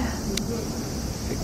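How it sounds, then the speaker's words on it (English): Insects, likely cicadas, buzz in a steady, dense drone in a bamboo grove in Shikoku, filling the whole short stretch at moderate loudness. "Cicada."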